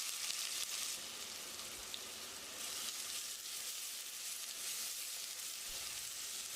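Finely chopped onions, with cinnamon, cloves, cardamom and curry leaves, sauté in oil in a pressure cooker, giving a steady, soft, close sizzle and crackle with no talking.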